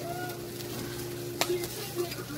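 Eggs frying in a pan that is too hot give off a steady, loud sizzle, broken by one brief clatter midway and a couple of softer knocks, with no voices.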